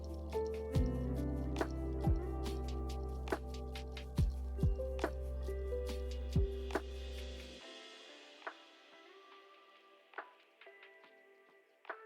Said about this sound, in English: some nice sugary wort in there, on the sparge, and transfer into kettle